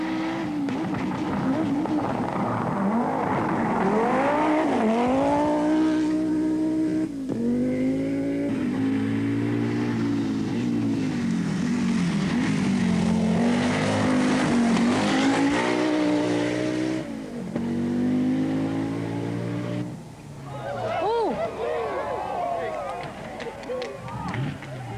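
A rally car drives a forest stage at the 1985 Clarion Rally in New Zealand, its engine revving and rising through gears in long sweeping pulls, loud and close, with a commentator talking over the whole run.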